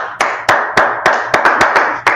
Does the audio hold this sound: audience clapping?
yes